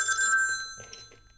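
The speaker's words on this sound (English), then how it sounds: "Phone?" A telephone bell rings loudly and close, its bright sustained tone carrying through the whole short moment, with faint background murmur beneath.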